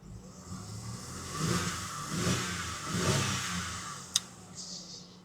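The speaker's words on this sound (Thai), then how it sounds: "เร่งเครื่องหน่อยครับเครื่องยนต์ V6" A 2010 Mercedes-Benz C230 2.5-litre V6 engine revs up three times in smooth rising swells, then settles, with a sharp click near the end.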